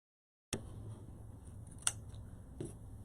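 Scissors snip at the beard of a St. Patrick's Day gnome wreath, a couple of sharp clicks standing out over a low steady background hum, close and fairly quiet.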